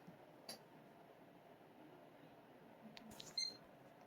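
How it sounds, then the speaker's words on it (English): A computer motherboard gives a single short, high POST beep at power-up over a quiet hum of fans, preceded by a few faint clicks. "We got a beep."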